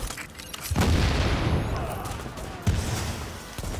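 Explosions in the video game The Division: two deep, booming blasts, the first near the one-second mark swelling into a long rumbling roar, the second a sharper thump near the end, loud and close.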